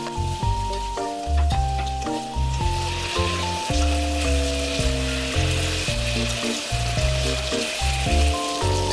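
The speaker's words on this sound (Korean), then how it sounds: "꽈리고추가 살짝 숨이 죽으면 두부, 볶은 야채, 홍고추를 넣고 잘 섞어서 간이 고루들도록 해주세요." Tofu, stir-fried vegetables, shishito peppers and red chili toss in a hot pan with a steady, dense sizzle, largely masked by loud melodic background music.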